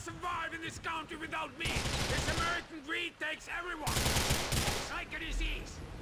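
Rapid bursts of gunfire from GTA IV, loud and sustained in several volleys, mixed with a voice talking over the shooting.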